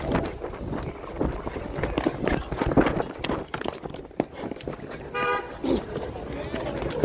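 A car horn toots amid an outdoor street scene, heard under ongoing talk and commotion as a man is warned about traffic.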